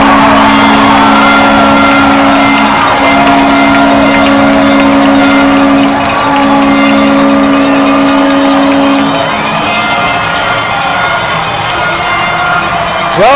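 A hockey arena crowd at a junior Des Moines Buccaneers game roars continuously after a goal, a dense sustained wall of cheering with horns blaring and clanging noisemakers, loud and enveloping throughout.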